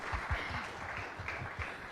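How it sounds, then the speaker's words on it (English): Audience applause at a real estate conclave and awards ceremony in Gujarat, a steady wash of clapping from a crowd with a few sharper, closer claps standing out. "I think we need to applaud this accomplishment for sure"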